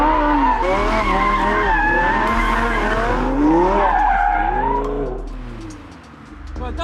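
An LB-Works widebody Lamborghini Huracan spins donuts, its tyres shrieking in long wavering squeals over a steady engine drone, loud and close, before easing off near the end.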